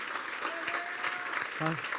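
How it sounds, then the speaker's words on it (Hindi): Applause from a crowd at a Good Friday church service, steady broadband clapping throughout with a voice briefly audible over it. "तो ज़ोरदार तालियां बजाएंगे इस खूबसूरत कलाम के लिए।"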